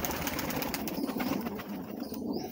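Pigeons scuffle and flap their wings in a fight, a dense rustling flutter of feathers with faint cooing, fairly close and without voices.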